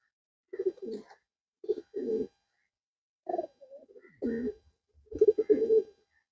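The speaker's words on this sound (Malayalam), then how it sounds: "നല്ല റിസൾട്ടുള്ള ഒരു പ്രാവാണ് സന്തോഷ്" A pigeon in a loft coos nearby in several soft, throaty bursts separated by short pauses, with no talking.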